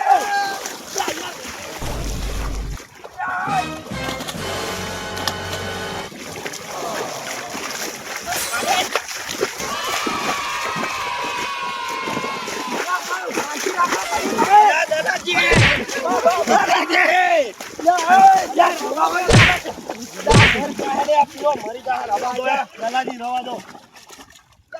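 Water splashes and sloshes as it is bailed out of a flooded farm field, with irregular splashing running throughout beneath loud, overlapping voices arguing close by.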